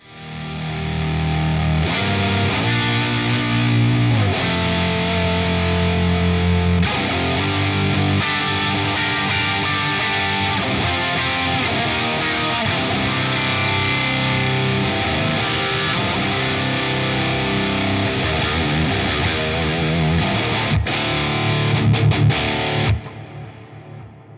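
Electric guitar chords through a Neural DSP Fortin Nameless X amp plugin ring out continuously with lush reverb and echoing delay, loud and sustained for the whole stretch, with no talking.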